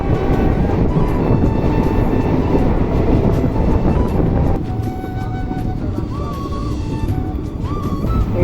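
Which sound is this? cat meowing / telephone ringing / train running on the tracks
train running on the tracks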